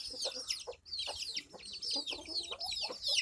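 A hen and her chicks, kept in a backyard flock, cluck and peep while pecking at leftover chapati. Close, busy chirping and clucking repeats steadily throughout.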